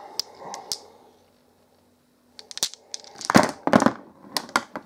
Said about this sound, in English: A bunch of glass marbles.